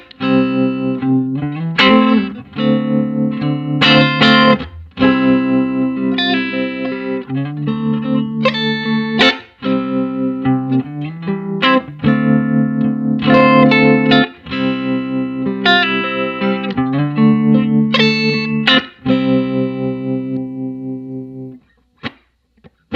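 A clean guitar played straight into a 1962 Fender Concert tube amp with no pedals or reverb, strummed chords and single notes ringing loud and sustained for over twenty seconds before a final fade.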